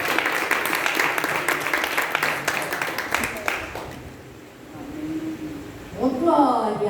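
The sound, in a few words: applause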